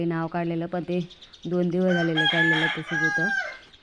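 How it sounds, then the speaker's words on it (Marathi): A rooster crows loudly and close by outside a village house on a morning, one long rising call in the middle, while a person talks before and after it. "आणि कोंबडा पण आरवत होता मस्तपैकी,"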